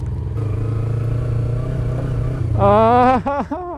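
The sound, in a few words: Suzuki and Kawasaki Ninja motorcycles riding offroad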